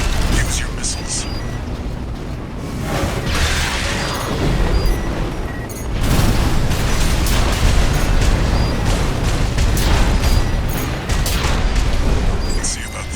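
Missile explosions in the video game Armored Core 6 rumble as dense, continuous booms and bursts amid mechanical battle noise, loud and close, with surges of heavier blasts over the steady din.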